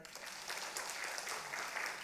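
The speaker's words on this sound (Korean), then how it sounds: "박수해 주세요." A small congregation at a prayer meeting gives a short round of applause, faint and distant, with a quick patter of clapping and some voices underneath.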